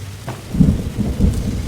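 Thunder rumbling through rain in the Roblox survival game 99 Nights in the Forest, a deep rolling boom building and swelling twice over a steady wash of rainfall.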